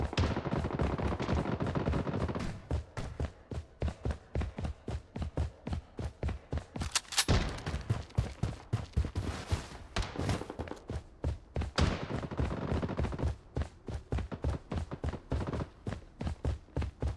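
Close, loud gunfire from the Blood Strike video game: rapid automatic bursts crackle almost without pause for the whole stretch, with heavier thuds mixed in and a brief louder blast in the middle.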